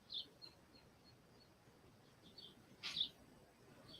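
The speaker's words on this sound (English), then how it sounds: "he keeps leaving my back door open, so you do hear the birds again." Birds outside an open back door give faint, scattered chirps, a few brief calls spread over a quiet background.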